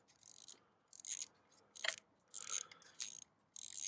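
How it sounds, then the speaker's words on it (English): A ratchet wrench works on the upper intake manifold bolts of a car engine, giving six short bursts of bright clicking at a steady pace, each separated by a brief pause. "let's get those throttle body bolts out of there"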